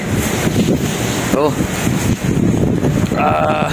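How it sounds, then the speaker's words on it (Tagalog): Strong wind roars against the microphone outdoors in a heavy downpour, a dense continuous wash of noise from start to end, with a brief whistling tone and a voice in the mix. "ang lakas ng ulan. Lakas pa ng hangin, napakalamig."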